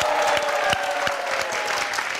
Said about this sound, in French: On va vous applaudir encore plus fort, s'il vous plaît.